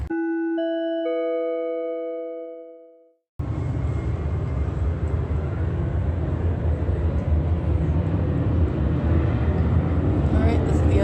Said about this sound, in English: noise of a plane flying at the exact same location.